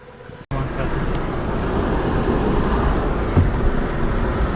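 From inside a Toyota Prius cruising at about 55 km/h, a steady, even rumble of road and tire noise runs throughout, briefly cutting out near the start.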